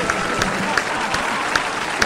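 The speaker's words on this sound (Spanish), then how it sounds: "Por favor, aplausos." Studio audience applause on a talk show, a steady burst of clapping from a crowd with sharp individual claps standing out through the two seconds.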